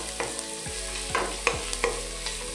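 Onion fries and browns in a pan under a steady sizzle, with several sharp utensil scrapes and taps from stirring spaced through it; close, no talking.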